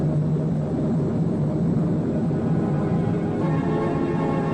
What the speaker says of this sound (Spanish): con su avioneta Young Mister se supera en cada actuación